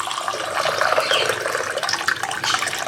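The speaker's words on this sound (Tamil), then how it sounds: "தண்ணி" Water is poured into a homemade ginger, garlic, lemon, honey and apple cider remedy drink, a continuous splashing trickle lasting a few seconds with no talking.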